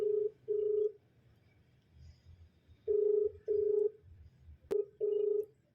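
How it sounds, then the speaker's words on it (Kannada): Phone call ringback tone, repeated short double beeps in a regular pattern, clear and fairly faint, with a single sharp click partway through. "ರಿಂಗ್ ಆಗ್ತದೆ."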